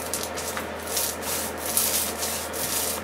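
A roller spreads plastic resin coating across an artwork, giving a continuous close rubbing, swishing sound in repeated strokes with no talk.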